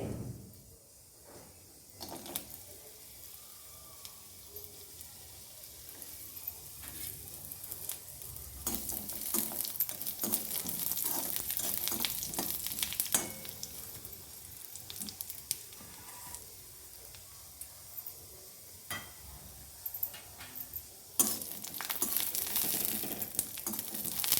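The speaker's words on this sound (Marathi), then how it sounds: "त्याच्यामध्ये आपण थोडंसं तेल टाकून खोबरं परतून घ्यायचे" Dried coconut is roasted in a little oil in a hot kadai, giving a continuous low sizzle with scraping stirs and brief louder crackling bursts near the end. No one speaks.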